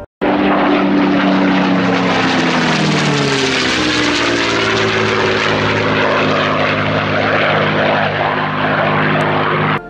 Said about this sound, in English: The Rolls-Royce Merlin engine produced a distinctive and melodious sound